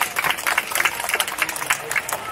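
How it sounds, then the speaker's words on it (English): A small audience claps for Midnight the owl after its flight at a Night Safari creatures-of-the-night show, a short burst of uneven, scattered clapping at moderate distance. "You want to give a round of applause for Midnight?"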